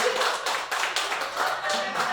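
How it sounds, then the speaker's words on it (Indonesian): A small group in a training session claps together for a winning team, bursts of hand claps rising and falling in uneven waves, with some chatter mixed in. "Apa tepuk tangan dong?"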